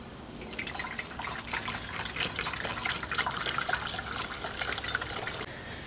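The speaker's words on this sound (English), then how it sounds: "Go ahead and put our funnel in there. And then add our fuel." Liquid camp fuel is poured through a funnel into a Coleman camp stove, a faint, steady trickle with small splashes and drips that stops abruptly near the end, with no talking.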